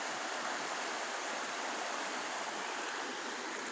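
South Branch Falls in Baxter State Park: a waterfall and a clear stream rush in a loud, constant, broadband roar, close by, with no voices.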